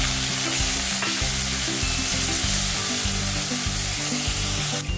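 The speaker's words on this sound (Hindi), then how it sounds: "तो आप देख सकते हो ऑनियन अच्छी तरह भून के हो गया है, साइड में तेल छोड़ा है।" Ground onion paste fries in oil for fish kurma, a loud, dense sizzle broken by rhythmic scraping strokes as it is stirred, close up and continuous throughout.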